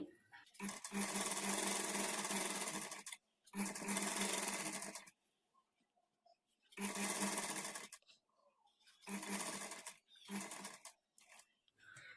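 A sewing machine stitches a blouse sleeve onto the body in five loud whirring bursts, each a few seconds long, separated by short near-silent pauses.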